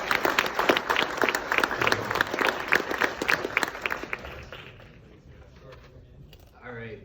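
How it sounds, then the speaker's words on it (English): A live Q&A audience in Toronto claps loudly in a dense, even burst of applause that fades out after about four seconds, leaving quieter room noise and a brief stir at the end. "another big round of applause for these guys"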